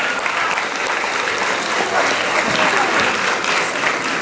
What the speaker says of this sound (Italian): Dovete molto applaudirlo.